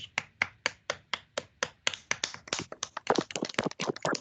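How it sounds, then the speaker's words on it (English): A small online audience claps for a speaker after a mathematics talk, with sharp separate hand claps in a loose rhythm that thicken into overlapping applause, close and fairly quiet. "Let us turn on the microphone for another time and applaud our speaker."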